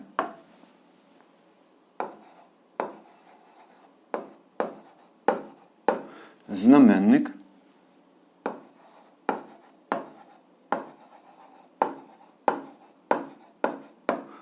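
Writing out an eighth-grade algebra fraction problem gives a series of short, crisp scratching strokes in an uneven rhythm, close up, with a brief wavering pitched squeal partway through.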